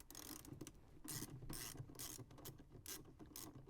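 A wrench loosens a 10mm nut on the battery terminal of a 981 Porsche Boxster, giving a quick run of faint clicking ratchet sounds in bursts of a few strokes, close and quiet, with no talking.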